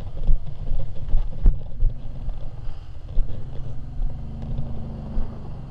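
An off-road vehicle crawls slowly over rocks on a rough desert trail, giving a low, steady engine rumble with occasional knocks and wind buffeting the microphone.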